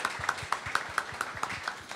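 Audience applause for performers of verses from the Marathi film Sant Dnyaneshwaranchi Muktaai, a light, close, rhythmic clapping with evenly spaced sharp claps, like a small group clapping in time.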